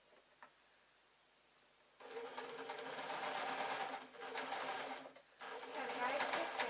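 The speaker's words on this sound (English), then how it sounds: "Take my other pin out and I'm going to sew" A modern sewing machine stitches a purple bat wing dress, starting after a quiet pause with a fast, close, even whirr that briefly stops once and resumes.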